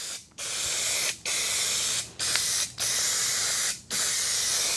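A spray can applies U-pol metallic paint to a car panel in five bursts of close, loud hissing, separated by brief silent gaps as the nozzle is released and pressed again.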